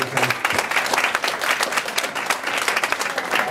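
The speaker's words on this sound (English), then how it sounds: "So big round of applause for Mr. Eric Duncan." An audience at a fundraiser breaks into a burst of applause, many hands clapping close and loud in a dense, even patter that holds steady for several seconds without talk over it.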